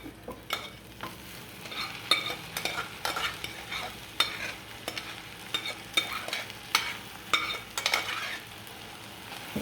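Cluster beans and onions sizzle in a hot pan while a utensil scrapes and stirs in repeated strokes, close by and fairly quiet.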